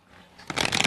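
A short riffle of tarot cards being shuffled during a love reading, a quick papery flutter that swells from quiet to a brisk, close burst within a second.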